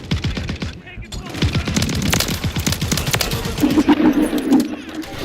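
Sustained automatic gunfire in a shooter video game, a rapid rattling stream of shots at close range, loud throughout with a shouted voice cutting in partway.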